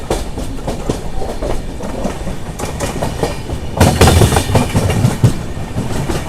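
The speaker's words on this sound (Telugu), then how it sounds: "సో మన ట్రైన్ వచ్చేసి గూడూరు జంక్షన్ నుంచి అయితే బయలుదేరిపోయింది" The Charminar SF Express pulls out of Gudur Junction with a steady, close rumble of wagons and faint wheel clatter, swelling louder partway through as the carriages pick up speed.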